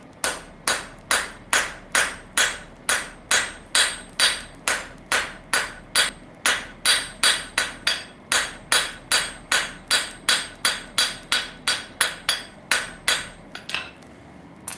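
A blacksmith hammers hot metal at a forge, drawing out a small square tenon, with steady ringing blows in an even rhythm, roughly two per second, loud and close and without talk.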